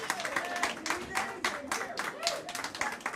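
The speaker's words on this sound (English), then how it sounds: "I'm hearing clapping." People at a planning commission meeting clapping steadily in rhythmic bursts of hand claps for several seconds, fairly close, with faint voices underneath.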